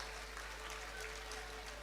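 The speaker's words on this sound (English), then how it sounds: "I think it needs a round of applause." Applause at a university convocation ceremony after a graduating batch is praised, a faint, steady wash of many hands clapping in a large hall over a low hum.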